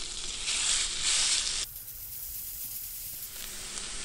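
Chopped bacon fries in olive oil in a skillet on the stove, a bright close sizzle that is loud for the first moments and then drops to a softer steady crackle.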